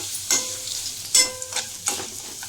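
A tempering of chili powder sizzling in a pan for vegetable khichdi, with a soft background sizzle broken by three or four louder bursts of stirring and spluttering.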